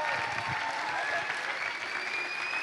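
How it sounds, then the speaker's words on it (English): Sustained audience applause at an opening ceremony of an international student gathering, a dense, steady wash of clapping that fills the whole span without a break. "Please give it a round of applause."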